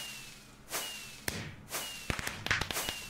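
Fireworks in the Minecraft Project Ozone modpack go off as a series of sharp whooshing cracks and pops, starting sparse and then coming quicker in a close, bright crackling run with no talking.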